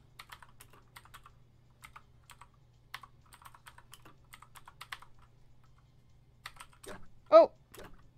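Keys clatter on a computer keyboard during a Mavis Beacon typing race, a quick, irregular run of light close clicks in short flurries, followed by a brief vocal exclamation near the end.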